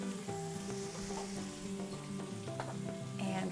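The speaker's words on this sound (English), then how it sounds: "you can just hear it starting to sizzle right off the blocks" Coarse ground chicken thighs sizzle steadily in a hot pan, a dense continuous crackle with small pops throughout, loud and close with no voices.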